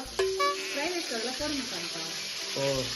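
Green chillies sizzling in hot oil in a pan while fried rice is being made, a soft frying crackle with a faint clink at the start and a voice talking over it.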